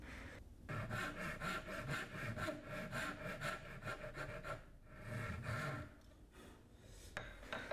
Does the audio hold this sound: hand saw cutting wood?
yes